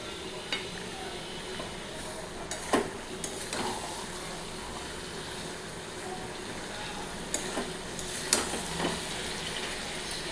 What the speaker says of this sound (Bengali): তারপর ম্যারিনেট করা চিকেনটা কড়াইতে দিয়ে ভালো করে কষাচ্ছি বেশ অনেকক্ষণ ধরেই।